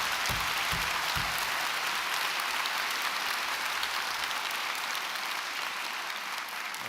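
A graduation audience applauds in a large hall, the clapping dense and sustained at an even level throughout, with no talking heard.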